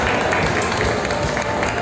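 Audience at a Brazilian fan event applauding in a dense, steady wash of many hands clapping, moderately loud and alone for about two seconds.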